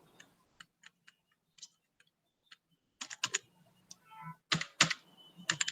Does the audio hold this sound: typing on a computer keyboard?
yes